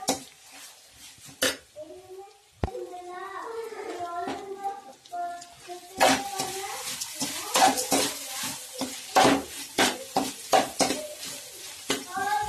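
Raw mango pieces are sautéed in a pan, a spoon scraping and clinking against the metal over a light sizzle, with sharp utensil knocks growing frequent in the second half and a voice over parts.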